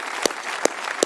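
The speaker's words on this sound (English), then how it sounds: "Give them a round of applause for me." A graduation audience claps in a brief burst, loud and close, with a few sharper accents standing out from the crowd noise.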